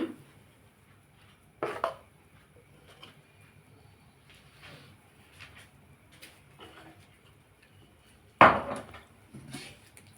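A pot and its metal lid clatter on a gas stove while pitha cooks, with a few sharp knocks and clinks spaced apart, the loudest near the end, over a quiet kitchen background.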